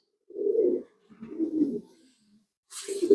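Fancy pigeons cooing up close in a few soft, throaty bursts separated by short pauses, with no talk over them.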